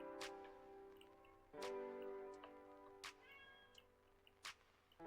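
A house cat meows several times in short separate calls, close and fairly clear, set against a quiet room.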